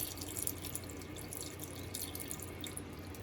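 Water draining through a buried conduit pipe at a garage build, a steady trickling rush with scattered drips, close and continuous with no talk.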